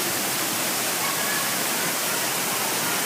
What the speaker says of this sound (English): The waterfalls also serve as the main filtration system for our river.